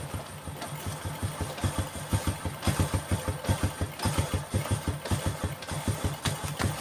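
A motorcycle engine idles close by with a steady, rapid thumping pulse while its carburetor air screw is adjusted, the engine's intake valve leaking and the bike hard to start in the morning; no one speaks.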